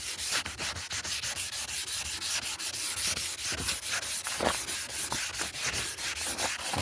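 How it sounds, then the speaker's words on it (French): Steady back-and-forth rubbing of 800-grit wet sandpaper on a car headlight lens, a continuous rhythmic abrasive scrubbing close up with no talking. "plus on frotte avec du 800, et plus on sent que c'est lisse"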